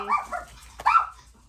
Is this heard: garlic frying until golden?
no